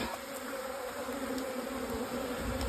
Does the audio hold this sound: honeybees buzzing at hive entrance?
yes